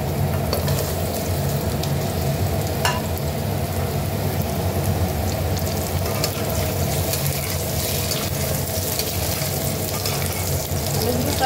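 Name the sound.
potatoes frying in hot oil in a wok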